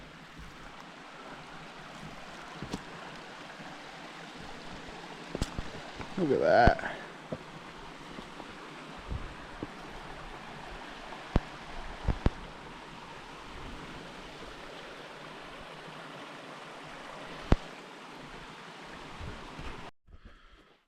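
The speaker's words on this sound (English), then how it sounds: "Alright, we're crossing the brook now." A brook flows steadily on a hike near Franconia Ridge, a continuous rushing wash of water holding even throughout, with a brief spoken remark partway through.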